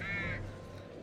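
A crow caws once in The Dark Pictures: The Devil in Me video game, a single harsh call, loud and near, fading into a quiet background hum.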